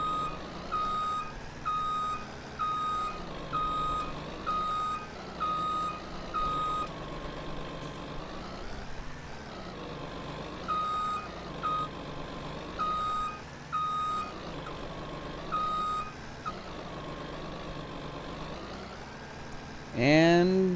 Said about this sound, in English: I do apologize, guys, if the beeper is really loud.